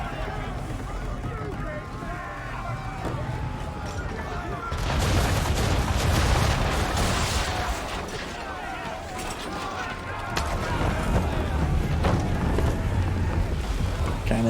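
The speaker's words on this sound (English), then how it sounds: "Cannons." Cannon fire in the video game Assassin's Creed III booms out in heavy, rumbling volleys over a steady roar of wind and water, swelling louder midway and again near the end, with someone talking over it.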